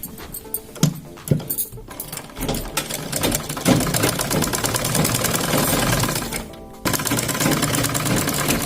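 A sewing machine stitches a seam on a kurti, whirring steadily up close with a busy mechanical clatter. The run is broken by short stops and one brief pause before it starts again.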